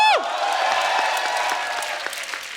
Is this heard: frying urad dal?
no